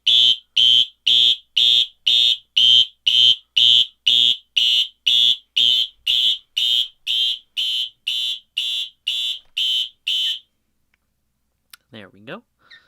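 An elementary school fire alarm system under test sounds a loud, regular series of about twenty buzzing electronic pulses. The pulses then stop abruptly, followed by silence and a brief faint noise at the end.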